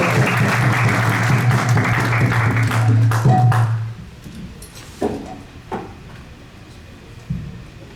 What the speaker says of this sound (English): Let's all give Prabhu a big round of applause.